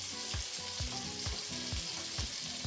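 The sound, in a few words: ground beef sizzling in pan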